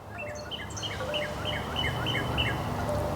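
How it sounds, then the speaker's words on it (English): Birds chirp and tweet in a quiet, peaceful backyard, repeated short calls at moderate distance over a soft steady background hum. "We have birds chirping."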